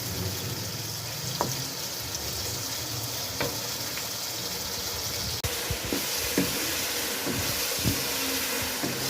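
Chatkhara dry masala chicken with yogurt sizzling steadily in a pan, a continuous close frying hiss with occasional stirring clacks and no talking.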